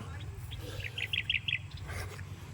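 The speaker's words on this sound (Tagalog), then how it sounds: "Ingin ng mga ibon na." Small birds chirp in quick, bright bursts over a low background hum in the early morning, a short run of tweets fairly close and clear.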